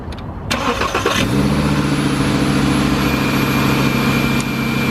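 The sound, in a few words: Volkswagen engine cold start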